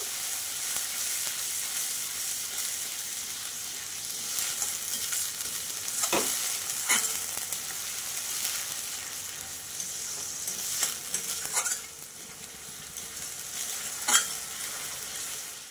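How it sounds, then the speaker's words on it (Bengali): Ground spice paste of onion, tomato, chilli, coriander and cumin fries steadily in a pan for a Bengali fish curry, a continuous close sizzle with a few sharper scraping stirs, no voices. "মশলাটা কিন্তু অনেকটাই কষানো হয়ে গেছে।"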